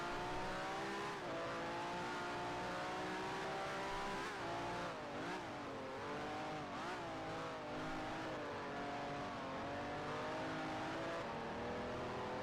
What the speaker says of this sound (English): Here comes another Ferrari.